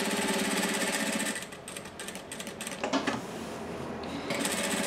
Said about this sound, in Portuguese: nós vamos só passar uma costurinha de segurança